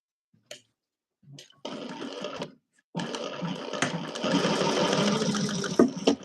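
A sewing machine stitching a quarter-inch seam along both sides of folded fabric, short stop-start bursts of whirring that settle into a steady, close mechanical hum after a few seconds.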